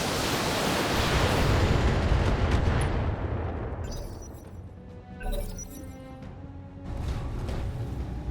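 Heavy mech weapons fire in the BattleTech video game, likely ultra autocannons: a long roaring barrage of blasts, then a fading rumble, then sharp impacts and a renewed burst of fire.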